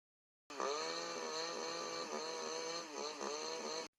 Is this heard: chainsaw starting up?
yes